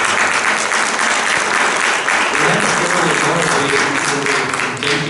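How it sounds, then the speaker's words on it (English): A military veterans' audience at a Korean War remembrance gives a sustained round of applause for the 8240th unit, dense clapping filling the room steadily throughout, with a murmur of voices mixed in. "Please give a round of applause"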